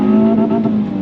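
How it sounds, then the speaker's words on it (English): Hyundai i20N engine held against the rev limiter during a launch-control start, a loud, close, steady buzzing drone with a slight bouncing waver throughout and no talk. "Bounce off the rev limiter there"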